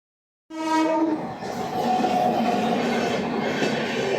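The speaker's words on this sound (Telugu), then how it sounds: "ట్రైన్ వచ్చిందన్నమాట మనం ట్రైన్ దగ్గర ఉన్నాము" A loud train horn blares suddenly after silence, then a sustained rumble of a Madurai train arriving close by at Tanguturu station.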